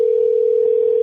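Telephone ringback tone heard while a call is placed, a single steady unbroken tone held loud and clean for about a second.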